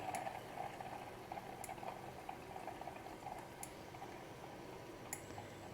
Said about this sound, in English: So you've got these beautiful clear bubbles on the top.